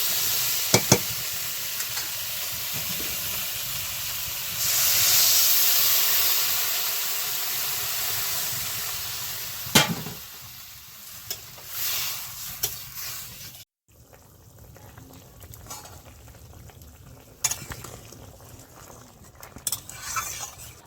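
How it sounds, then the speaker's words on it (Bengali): Fish curry with potatoes and taro stems bubbles and hisses in a pot, a steady simmering sizzle with occasional clinks of a utensil and brief bursts of steam, heard close with no talking. "ঝোলটা ফুটে গেছে"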